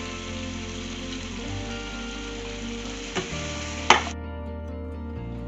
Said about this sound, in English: 1 clove of garlic. That's it. Let it fry